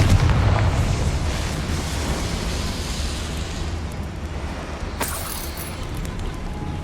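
A Confringo explosion spell in the game Hogwarts Legacy, a loud deep blast that rumbles and slowly decays over several seconds, with a sharp crackle partway through.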